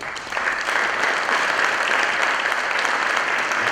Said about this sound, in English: a round of applause, please, for Albert Badosa Soler